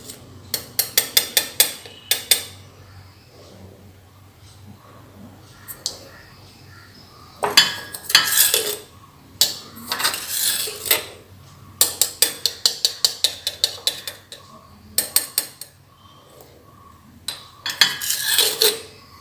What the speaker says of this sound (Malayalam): ഇളക്കിയതിന് ശേഷം നമുക്ക് ഇതിലേക്ക് ഉപ്പ് ആഡ് ചെയ്ത് കൊടുക്കാം